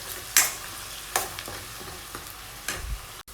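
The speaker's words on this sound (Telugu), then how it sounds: "ఆనియన్ కర్రీ లీవ్స్ వేసిన తర్వాత ఇవన్నీ కూడా గోల్డ్ కలర్ వచ్చేంత వరకు ఫ్రై" Onions and curry leaves fry in a pan, a quiet background sizzle broken by a few sharp spoon scrapes and clinks against the metal.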